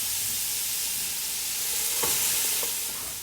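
Garlic, carrots and onions sizzle steadily in melted butter in a Dutch oven, a continuous hiss with a couple of faint stirring clicks, no voices.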